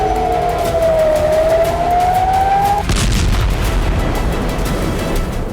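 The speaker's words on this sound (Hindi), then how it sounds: "रात भर इजराइल में रेड अलर्ट सायरन बजते रहे।" Red-alert air raid sirens wail across Israel during a night of rocket attacks, one loud sustained rising-and-falling tone that cuts off into a dense rumbling roar.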